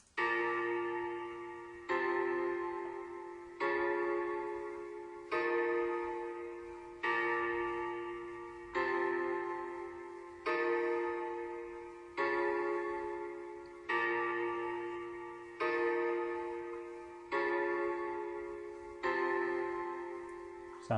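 Piano melody from a UK drill beat built in LMMS, repeating in even two-bar phrases of chords that strike and fade, steady and alone with no talking.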